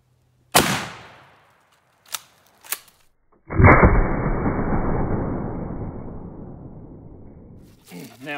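A shotgun fires Winchester 1 ounce rifled slugs into pumpkins: a sharp, loud blast near the start and two smaller pops. Then a long, loud burst of debris and rumble decays over several seconds.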